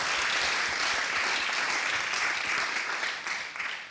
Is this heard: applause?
yes